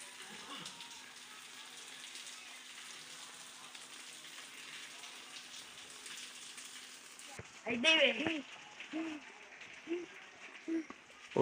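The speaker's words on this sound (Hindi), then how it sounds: "तो अभी तक ये देखिए जी बारिश बरस रही है।" Heavy monsoon rain pours down steadily in a town, a dense continuous hiss that shifts after several seconds as faint voices and scattered knocks join in.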